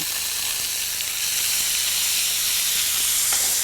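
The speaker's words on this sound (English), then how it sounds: "they sizzle just as they do if you put them into a hot pan" Steady, loud sizzling of marinated steaks cooking in a microwave, a continuous bright hiss with faint crackles throughout, no voices.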